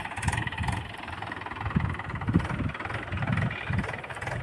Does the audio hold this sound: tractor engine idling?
yes